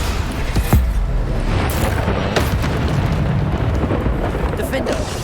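Booming blasts from a Bombarda explosion spell in the Hogwarts Legacy video game, a dense, loud rumble with sharp hits amid continuous combat noise.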